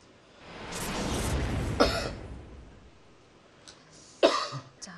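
A professional Go player coughs during a tournament match, two separate broadband bursts of coughing, one near the start and a sharper one later, fairly close and moderately loud against a quiet room background.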